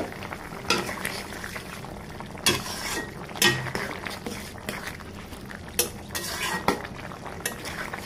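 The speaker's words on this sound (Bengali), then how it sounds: "এখন ঢাকনা উঠিয়ে নেব।" A pot lid comes off a simmering shrimp and turnip curry with a few metallic clanks and clinks, heard over a soft background bubbling and stirring, the knocks scattered and moderately loud.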